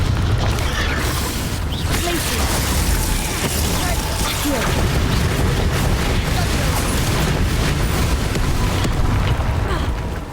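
Repeated Confringo blasting curse explosions in the video game Hogwarts Legacy make a dense, continuous rumble of booms and bursts layered with game effects throughout.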